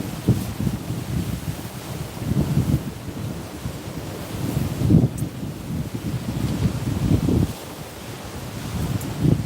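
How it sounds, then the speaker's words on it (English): Steady wind buffets the microphone on a seaside cliff along the California shore, a continuous low rumble in rolling gusts with a distant wash of surf underneath and no voices. "Still getting windier."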